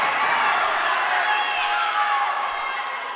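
A boxing crowd cheers the fighters, a broad steady roar of many voices that fades slightly toward the end.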